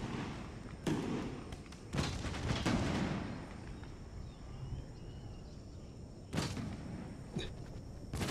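Cannons fire canister shot in the Empire: Total War battle, sharp bursts at about one, two and six seconds with a crackling spray of shot after each, over a quieter hiss of the battlefield.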